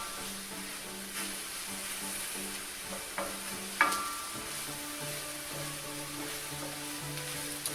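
Ground beef and flour for stroganoff cook in a pan with a soft, steady sizzle and a couple of faint utensil clicks, quiet and without talking.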